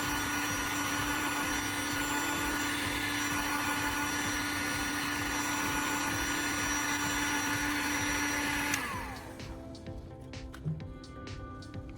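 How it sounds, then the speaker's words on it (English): A heat gun blows hot air steadily over a remote control circuit board, a loud, even whir that holds for about nine seconds and then cuts off, leaving faint handling clicks. "I'll also give the circuit board a quick pass with the heat gun to ensure any residual moisture from the cleaning solution is completely evaporated."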